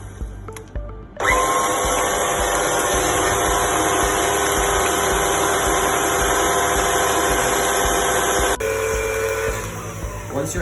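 Stand mixer with a paddle attachment beating eggs into batter, a loud steady motor whine with a high tonal hum running for several seconds, shifting pitch near the end, faint voice under it.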